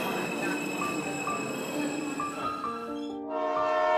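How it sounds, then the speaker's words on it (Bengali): A train pulls into a small rural railway station at dusk, its rumble and steady horn-like tones joined by squealing wheels and a louder roar as it nears. "সন্ধে হব হব করছে, এমন সময় বিধুয়াডাঙ্গা স্টেশনে ট্রেন এসে পৌঁছালো।"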